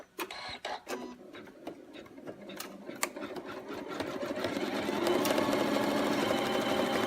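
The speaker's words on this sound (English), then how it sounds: "Now it's outlining, sewing on the ears" A sewing machine stitches the ears onto a peekaboo bunny, a few scattered taps and clicks at first, then a steady, building mechanical whir that runs continuously and grows louder toward the end.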